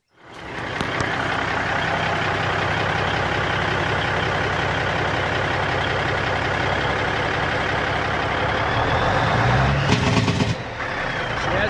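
A big cam Cummins diesel in a Peterbilt 379 truck runs with a loud, steady, throaty rumble close by, holding even for most of the stretch before a brief rougher surge near the end.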